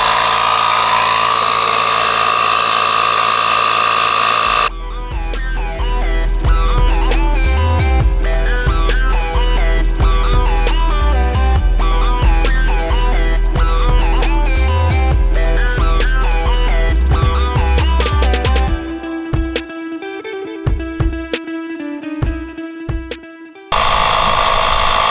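A cheap automotive air pump inflates a tyre with a loud, rapid mechanical chatter and buzzing motor. It follows a quieter opening, runs steadily for most of the stretch, then thins and cuts off near the end.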